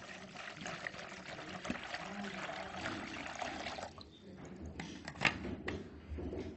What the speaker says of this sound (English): add 1 liter of water.